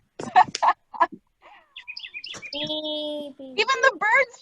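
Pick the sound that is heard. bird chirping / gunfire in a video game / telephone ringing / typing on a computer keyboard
bird chirping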